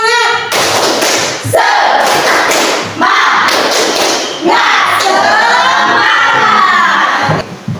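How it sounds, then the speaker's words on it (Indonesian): Schoolchildren in a classroom do a spirited clapping chant before a lesson. Their loud shouted chanting rises and falls over rhythmic group claps and thumps. "kita tepuk semangat dulu ya, supaya lebih bahagia, lebih semangat lagi"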